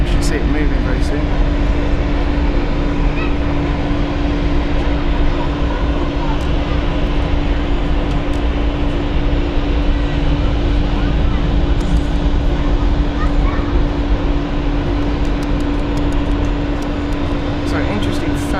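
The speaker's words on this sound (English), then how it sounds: "to save fuel, they taxi with just one engine, which is normally the right engine, as they are doing right now." An airliner taxis at Zurich Airport on just its right engine, producing a continuous loud roar and steady tonal whine that stays close and unchanging for the whole stretch, with faint clicks over it.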